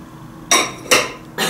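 Ceramic plates and bowls clink against each other being handled, three sharp close knocks spaced about half a second apart over a faint room background.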